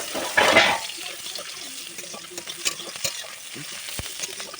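Sliced onions hit a hot pan and sizzle loudly for a moment, then settle into a quieter fry as they are stirred, with light scraping clinks of the spoon against the metal.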